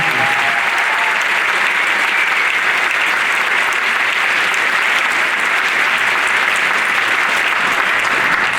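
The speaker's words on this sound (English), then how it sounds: "Give a big round of applause to the rest of the community." Steady, dense applause from a large audience at a senator's citizens meeting in West Hartford, continuous and loud throughout with no talking over it.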